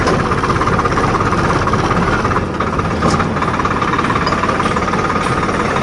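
A Farmtrac 45 or Swaraj 744 XT tractor engine idles close by, a loud, steady, throbbing chug with a constant vibrating rumble.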